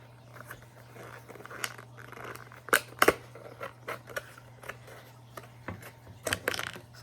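Scissors snip through a thin plastic candy kit tray for Japanese candy, giving a few sharp, close crunchy cuts with a big burst around the middle, over a low steady hum.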